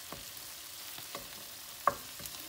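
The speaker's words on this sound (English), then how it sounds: "So I'm just flipping all the pork." Pork frying in an Aldi cast iron pan gives a faint, low sizzle, broken by a few soft scrapes and clacks as the pieces are flipped, with one sharper knock near the end.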